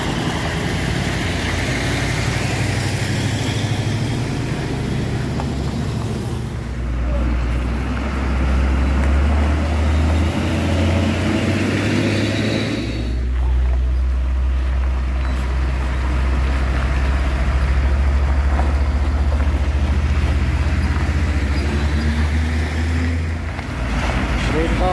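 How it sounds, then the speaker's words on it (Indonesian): A Hino tanker truck engine running near an overturned CPO tanker at Rawa Bengis, Balam, a low steady diesel rumble that rises and falls under constant roadside noise and wind, with people talking. "Truk Hino ini sudah dihidupkan mesinnya"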